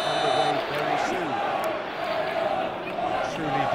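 A large stadium crowd in PES 21 roars and chants steadily in the background, its rising and falling cries running continuously beneath a commentator's voice.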